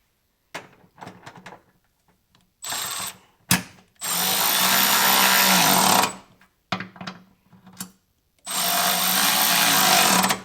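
A power drill drives the mounting bolts of Boost Auto M2 Lumasteps powered running boards, running in several loud, sustained whirring bursts separated by brief pauses and small clicks and clatters, with no talking.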